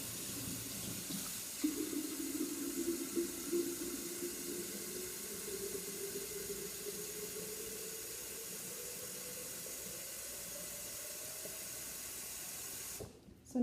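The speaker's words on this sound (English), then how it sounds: "I'm going to fill this up to about right here with just regular water that's about room temperature." Room-temperature tap water runs steadily into a container for kefir water soda, a continuous hissing flow whose pitch slowly rises as the vessel fills, then stops abruptly.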